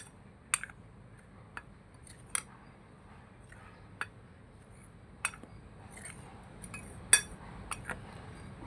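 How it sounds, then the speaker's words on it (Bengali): Ingredients for bread toast, including baking soda, are mixed in a bowl with a utensil. Sharp, irregular clinks and scrapes ring out against the bowl at close range, and the room is otherwise quiet with no talking. "বন্ধুরা এবার সব কয়েকটা উপকরণ ভালো করে মিশিয়ে নিতে হবে, খুব সুন্দর করে মেশাবে।"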